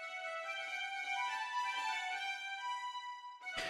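Sustained bowed marcato string samples hold a bright, steady chord of long notes, ending with a brief noisy burst.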